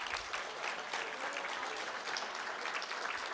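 Steady, full applause from the audience at a Boerne ISD school board meeting, many hands clapping evenly throughout, with no clear speech.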